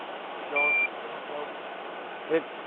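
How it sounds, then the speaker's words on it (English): A short electronic breathalyzer beep sounds during a DUI traffic stop amid background engine rumble and muffled voices, followed a moment later by a brief second chirp. "So just keep blowing until it beeps."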